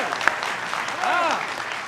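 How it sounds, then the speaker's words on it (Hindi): Hindi comedy or political satire show audience clapping steadily in a broad wash, with a singing or talking voice running over the applause throughout. "ताली बजाओ तो ढंग से बजाओ जरा"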